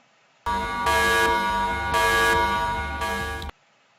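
Loud, harsh alarm tone that pulses in three bursts, sounding alone against a silent background and stopping abruptly.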